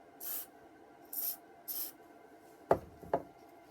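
Three short hissing bursts of WD-40 aerosol sprayed onto a part, each quick and close, followed by two sharp rubbing or wiping sounds.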